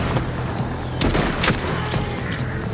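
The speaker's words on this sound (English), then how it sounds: "Oh, I'm igniting fireworks." Fireworks ignite in the video game Arizona Sunshine 2, popping and crackling in several quick bursts over a steady rumbling background.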